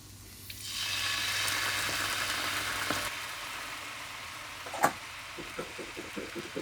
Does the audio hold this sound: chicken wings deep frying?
yes